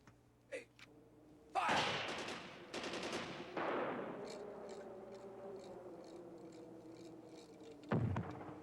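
Gunfire comes from a video game: loud bursts of rapid automatic fire, a few sharper single shots, and echoing tails between them.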